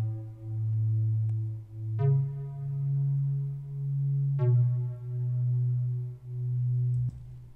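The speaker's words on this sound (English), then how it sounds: "And this time I used a sound called the Hi-Rise Pluck" Hi-Rise Pluck synth preset from Alchemy in Logic Pro X, playing sustained bright tones with a deep low layer, shifting pitch in a slow pattern of a few held notes, loud and alone.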